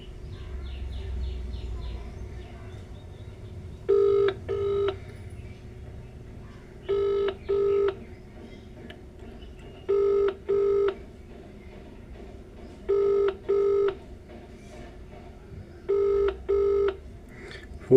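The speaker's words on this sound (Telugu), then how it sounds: "రింగ్ అవుతుంది" A phone line rings out with five evenly spaced double-pulse ringback tones, about three seconds apart, over quiet background hiss.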